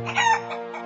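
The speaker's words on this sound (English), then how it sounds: "Look, the haystack is moving and clucking." Cartoon chicken clucking and crowing from inside a haystack in a children's animated rescue adventure, a short, loud, close burst of harmonic squawks with no talk.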